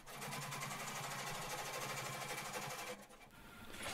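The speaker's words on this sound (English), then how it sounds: "Machine a double row of top stitching along the top." Sewing machine running steadily while topstitching a double row on jeans denim, a dense rapid needle rhythm that stops near the end, close and loud.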